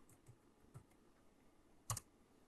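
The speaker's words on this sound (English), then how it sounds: "So I'm going to type in DFU programmer and then the controller" Keys tapped on a computer keyboard while entering a DFU programmer command, a few faint scattered clicks and one sharper pair of taps near the end, quiet and alone.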